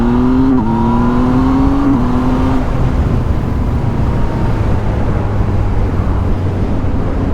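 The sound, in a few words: Yamaha MT-09 motorcycle with Mivv exhaust accelerating, quickshifter gear change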